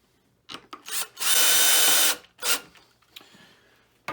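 A power drill drives screws to secure a Ring video doorbell mount on vinyl siding, with short bursts and then one sustained close whir of about a second, followed by another brief burst.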